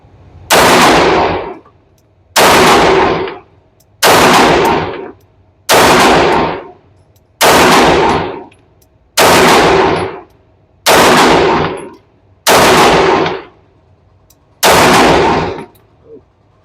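Eight loud, sharp gunshots from a Remington R1 2011 Pro Match 9 pistol at a shooting range, each crack followed by a short ringing tail, fired at a steady pace about two seconds apart.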